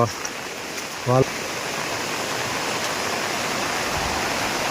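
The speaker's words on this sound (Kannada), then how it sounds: "ಈ ಹಳ್ಳದಲ್ಲಿ ನೀರು ಜಾಸ್ತಿ ಕೂಡ ಆಗಿದೆ ನೋಡಿ" A rain-swollen village stream rushes steadily nearby, a broad continuous roar of flowing water that fills the whole stretch, with a short burst of a voice early on.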